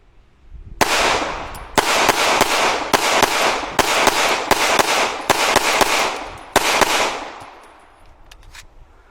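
Rapid strings of CZ Shadow 2 pistol shots at an outdoor shooting range, loud and close, fired in fast bursts of several rounds with brief pauses between and ringing decay after the last shot.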